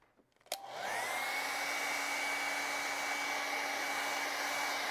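A hair dryer switches on after a brief click and runs at a steady, loud, close-up whir with a constant tonal hum, drying acrylic paint on a raven and pumpkin painting, with no talking.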